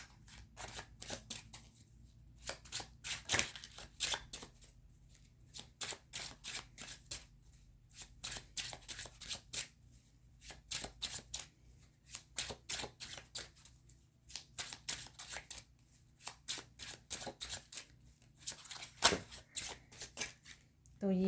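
Tarot cards being shuffled by hand in repeated riffling bursts, each a crisp flurry of snapping card edges separated by short pauses, close and clear, with someone speaking between the bursts.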